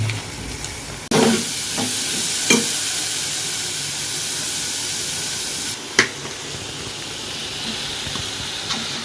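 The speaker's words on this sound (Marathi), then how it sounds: "सगळी बटाट्याची भाजी टाकून घेऊया त्यामध्ये आणि मस्तपैकी घुमवून घ्यायची." Potato vegetable being stirred in a frying pan, a steady sizzling hiss running throughout with a few sharper scraping knocks of the spoon against the pan.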